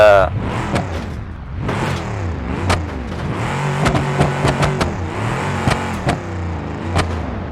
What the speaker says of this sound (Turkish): Sadece bu arabanın biraz sesi fazla yüksek.